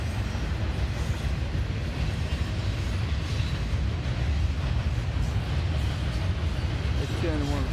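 Two Norfolk Southern intermodal freight trains pass each other in Berea, a continuous heavy rumbling roar of rolling cars close by with steady wheel noise throughout and a brief squeal near the end.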